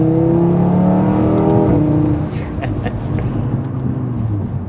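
An Audi RS3 accelerates hard, its engine note climbing loudly for about two seconds before settling into a lower, steady drone as the car keeps pulling.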